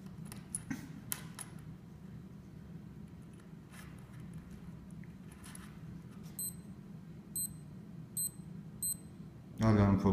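A digital wristwatch alarm gives several short, faint, high beeps in quick even pairs over low background rumble, with a louder clatter at the end.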